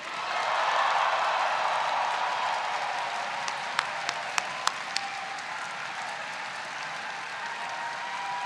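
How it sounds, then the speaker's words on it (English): A graduation ceremony audience at Dundee University cheers and applauds in a dense, sustained roar of clapping, with a few sharp whistles near the middle, continuing loudly throughout. "On 3, one further cheer to get things really warmed up and going."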